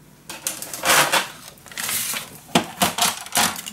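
Cardstock for a mini album base page is cut with a paper trimmer, making several sharp sliding swishes and clicks close up, in uneven bursts with short pauses between.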